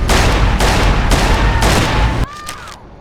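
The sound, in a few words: gunfire in shootout in video game Mafia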